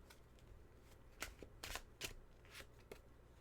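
Tarot cards shuffled by hand in a quiet room, a series of crisp riffling bursts and soft slaps spaced unevenly, close and fairly faint.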